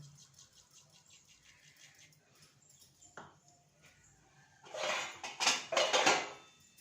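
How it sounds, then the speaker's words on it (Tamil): Mustard seeds spluttering in hot sesame oil: a quiet stretch, then a loud burst of crackling pops and spits over the last two seconds. "கடுகு நல்லா பொரியட்டும்"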